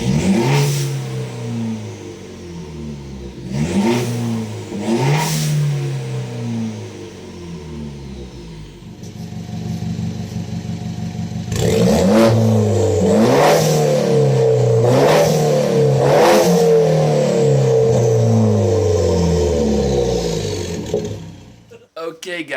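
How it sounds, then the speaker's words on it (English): A BMW 1 Series fitted with a hybrid turbo and a downpipe revs repeatedly through its exhaust, loud and close. Sharp rising blips are followed by a throaty idle, with a second cluster of quick revs later on. "let's hear the exhaust noise"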